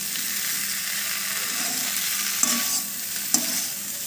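Onion and vegetable samosa filling is stirred in a hot pan with a steady sizzle, a spoon knocking against the pan twice near the end, with no talking.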